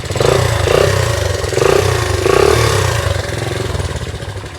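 A 44-year-old motorcycle engine idles while warming up, a loud, close, steady chugging rumble with slight rises and falls in pace and no voices over it.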